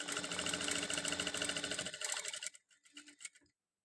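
A sewing machine stitches piping onto a box neck, a close, rapid rhythmic whirring that runs steadily, then slows into a few separate stitches and stops.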